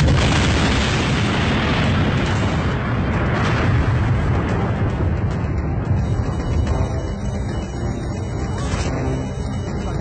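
A massive car bomb explosion near government buildings roars and rumbles continuously, a loud sustained blast with debris and reverberation filling the whole stretch.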